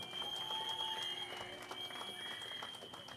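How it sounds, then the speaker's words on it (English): Round of applause at a community meeting, a faint, steady crowd clapping heard from a distance, with a high electronic hum and tone running beneath it. "I want you to give him a big round of applause"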